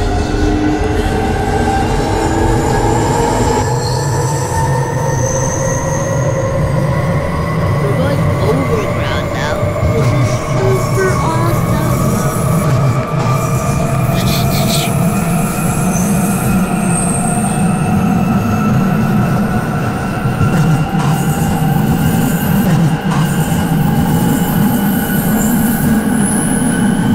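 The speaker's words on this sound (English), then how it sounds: "This train terminates at Stanmore." London Underground train running at steady speed toward Stanmore, wheels squealing in long sustained tones over a loud continuous rumble of rail noise, with faint announcements or voices in the background.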